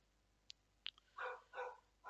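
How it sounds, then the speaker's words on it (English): Dog barks once sharply, then a quick double yelp, followed by three longer, louder barks in a steady rhythm, close by in a quiet room with no talking. "the dog was disturbing again"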